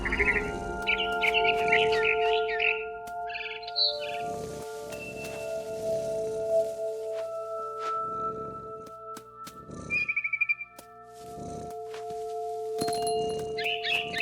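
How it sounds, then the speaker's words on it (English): A barn swallow chirps in the video game What Remains of Edith Finch, giving short bright bursts of twittering at intervals over a sustained, droning musical background. "Then I heard chirping outside my window. It was a barn swallow going back to her nest."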